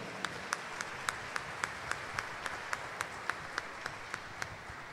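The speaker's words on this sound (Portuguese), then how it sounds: "Vamos dar uma salva de palmas para ele que foi batizado agora" Scattered, evenly spaced claps ring out in a church after a child's baptism at a Christmas Mass, a small congregation applauding softly and sparsely over a quiet room.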